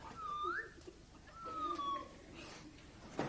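A person whistles an imitation of a small bird singing in a tree, making two long gliding whistled phrases with a soft pause between them, followed by a brief sharp sound at the end.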